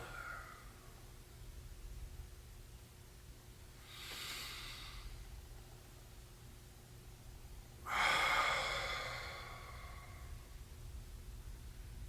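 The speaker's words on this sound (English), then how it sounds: "taking those really long, deep breaths" Two long, deep breaths taken during a jiujitsu warm-up, each a soft airy rush lasting about a second or two, the second louder and closer, over a steady low background hum.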